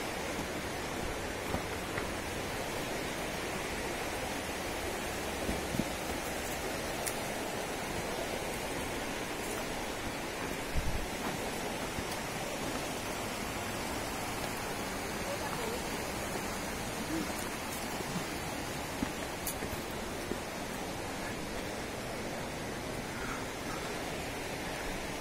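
A waterfall on a hiking trail roars as a steady, dense rush of falling water, unbroken and even throughout, heard from a moderate distance with no voices over it.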